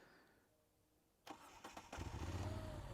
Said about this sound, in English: when the bike cranks up and then it does its little sideways shake